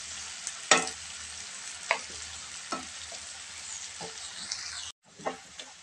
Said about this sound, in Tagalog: Patuloy lang sa paghalo hanggang lumabas ang katas ng kamatis.